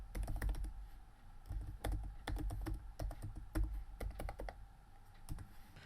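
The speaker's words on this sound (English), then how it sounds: "then we can just type our new password into this box" Keys on a computer keyboard clatter as a new password is entered, a close, steady patter of quick keystrokes with brief pauses between bursts.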